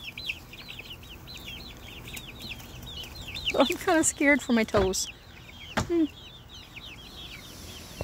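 Chickens in an aviary coop with wire walls, clucking and squawking in quick bursts that cluster loudly mid-clip over a steady bed of faint chatter, while a person speaks briefly nearby.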